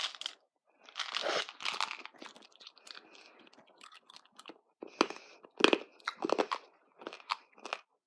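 Wintergreen Tic Tacs crunched between the teeth, close and crisp, with a run of sharp cracking bites and chewing in short bursts separated by brief quiet gaps.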